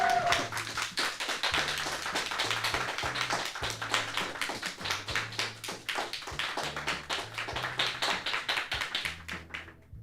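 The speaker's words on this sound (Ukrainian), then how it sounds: "Чо оплески для Івани" Audience clapping after a barista's performance at a coffee championship, steady rhythmic applause throughout with a low music bed pulsing underneath.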